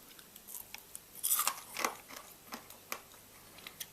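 A dehydrated silkworm is chewed with faint, close crunches and small bites coming in uneven bursts, quiet and with no talking.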